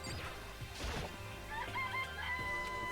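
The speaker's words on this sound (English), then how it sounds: "It's a chicken." Chicken in the Danganronpa video game clucking and crowing, with a crash-like burst early, then a run of high, rising clucks in the latter half.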